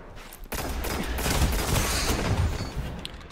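Heavy gunfire from high-caliber rounds in a shooter video game, heard as a dense, loud, continuous burst of rapid shots that keeps going for a few seconds after a sharp start.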